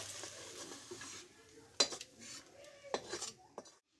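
A cooking pot of small potatoes is taken off the stove with light metallic clinks and scrapes, a few sharp knocks standing out over a faint background hiss, close and fairly quiet.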